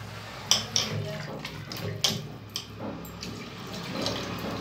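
Water is poured into a cooking pot of kneaded turkey masala for a traditional turkey fry, a steady splashing pour broken by a few sharp clinks of the pot nearby.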